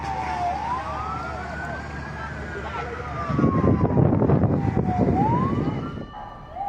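A wailing emergency siren rises and falls in long sweeping cycles as fire trucks respond to a fire at NAIA Terminal 3 departure area, under rumbling traffic noise with voices nearby.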